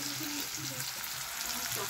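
Dry red chillies and cumin frying in a pan of hot oil, a soft continuous sizzle and crackle with faint stirring, low in level and alone.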